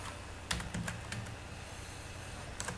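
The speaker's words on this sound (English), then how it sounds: "We will type something to install Laravel." Keys clatter on a computer keyboard while a command to install Laravel is entered, a few quiet close taps in short bursts with gaps between, no speech.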